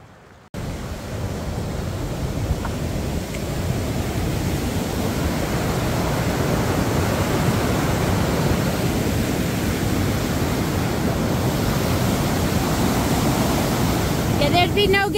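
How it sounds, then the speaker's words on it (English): Freezing cold creek water rushes at a river crossing in the Sierra Nevada, a loud, steady, close roar of broadband noise that runs unbroken for the whole stretch. "we start the morning off with a nice freezing cold river crossing. Freezing cold creek crossing."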